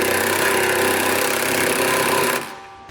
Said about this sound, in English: to tighten down the flange nuts, we're going to use a 19mm socket